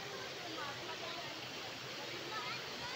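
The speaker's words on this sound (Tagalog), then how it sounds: "Ang ganda ng Kinaraha Falls." Kinaraha Falls in Caibiran, Biliran, gives a steady, even rush of falling water, faint and continuous with no break.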